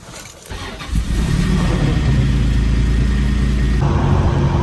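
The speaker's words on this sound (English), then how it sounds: "And you hear the turbo just blow up out." A turbocharged car engine revs up hard and holds a loud, steady roar, with a brief quieter moment before the power builds.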